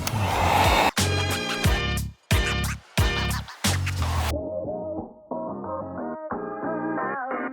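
Heat gun warming wrap material on a 2022-2024 Chevrolet Equinox front grille, a loud steady blowing hiss that cuts in and out repeatedly, with background music playing throughout.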